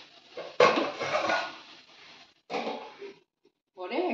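A metal lid is set on a pot of cooking cabbage, giving a sharp clank followed by rattling and scraping in a few close bursts, with a voice briefly heard near the end.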